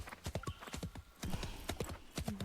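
Quick hoofbeats of a galloping horse in the video game Love and Deepspace, a rapid irregular clatter of sharp clip-clops, fairly close, with a faint whinny-like tone near the end.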